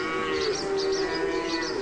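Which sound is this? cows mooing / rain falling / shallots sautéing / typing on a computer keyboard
cows mooing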